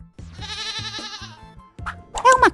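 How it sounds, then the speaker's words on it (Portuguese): A goat on a farm gives one drawn-out, wavering bleat, loud and close, followed by a brief pause and a short burst of higher-pitched sound. "É uma cabra."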